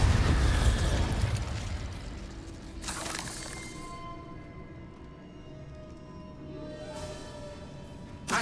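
A Bombarda explosion spell in the Hogwarts Legacy video game goes off as a loud, rumbling blast at the start, followed by a short crackling burst and a fading tail, with game ambience and another sharp burst further on.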